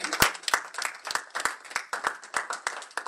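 Congregation applauding during a French sermon, a steady run of sharp, loud handclaps at an uneven rhythm from a crowd, with no talk over it.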